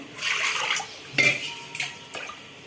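Boiled toor dal being poured into a metal pot while cooking a dal curry with drumstick, with wet clattering splashes and scraping of a utensil against the pot, a few sharper knocks standing out, close by and with no talking.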